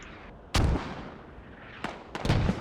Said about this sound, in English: Sabotage with a mortar kill.